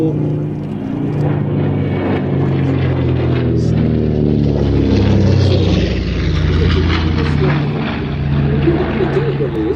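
A Douglas DC-6 propeller airliner flies overhead at an aviation show, a loud, steady, throbbing piston-engine drone that swells and holds for the whole stretch.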